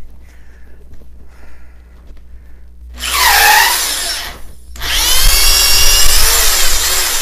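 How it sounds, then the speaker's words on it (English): A power drill with a speed bore bit whines loudly as it bores through wood in two bursts, with a short pause between them; the second run lasts longer. "if I'm going to use this drill, I would prefer to use my wood owl auger bit"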